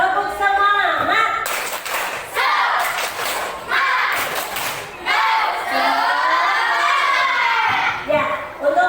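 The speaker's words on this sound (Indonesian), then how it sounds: "Tepuk semangat!" A classroom of children performing a 'spirit clap' chant: rhythmic group clapping in bursts mixed with kids chanting and shouting in unison, loud and lively throughout, with a teacher's voice leading at times.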